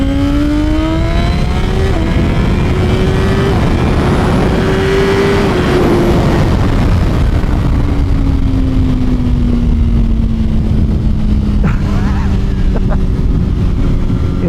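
A Suzuki GSX-R1000 sport motorcycle accelerates hard, its loud, close engine rising in pitch through the revs, dropping briefly at shifts, then winding up again under a steady roar of wind.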